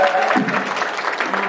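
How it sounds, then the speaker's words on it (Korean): Lecture audience applauding and cheering at the close of a humor talk on Dale Carnegie's human relations, a dense steady wash of clapping with a brief voice or tone early on, loud and close throughout. "오늘 명강의를 해주신 우리 신상훈 교수님께 우리와 같은 함성과 박수 보내주시기 바랍니다."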